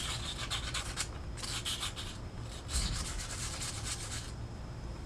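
Scrubbing rust off the wheel bearing area of a 2015 Honda Pilot, a steady rasping brush-on-metal rub in repeated quick strokes, close and fairly loud, with no talking.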